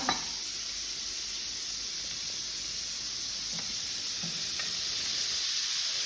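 Extra large shrimp sizzle steadily in a frying pan, a close, even hiss that runs throughout with a few soft clicks and bumps as they are turned.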